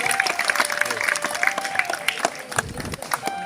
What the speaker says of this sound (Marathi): जोरदार टाळ्या वाजवायचे